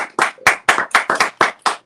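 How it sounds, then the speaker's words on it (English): Studio audience clapping on a live talk show as a guest named Yomade is welcomed, sharp rhythmic claps bursting out in quick repeated waves, loud and close with no talking over them. "Can we clap for Yomade?"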